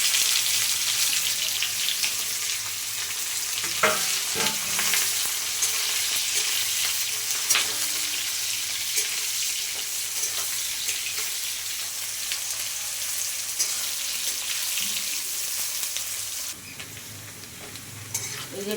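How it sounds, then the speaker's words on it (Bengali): Chopped onions frying in a pan with bay leaves for a Nepali-style chicken dish, giving a steady broadband sizzle throughout, with occasional stirring scrapes and a brief quieter change near the end. "দিয়ে দিচ্ছি কুচনো পেঁয়াজ"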